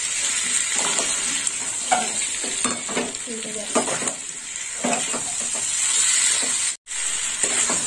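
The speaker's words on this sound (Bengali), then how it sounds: "আলু কুঁদরি দিয়ে একটু কষে নেবো।" Fried potatoes and ivy gourd are stir-fried in a pan for an egg curry, a close, continuous sizzle broken by rhythmic scraping strokes of the spatula, with one brief drop to silence near the end.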